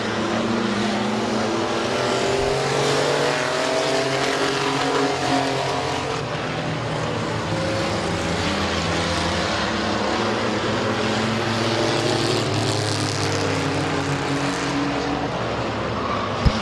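Race cars roar around the oval at Midvale Speedway, a loud continuous engine drone with shifting pitch as cars power through the turns, steady and dense throughout.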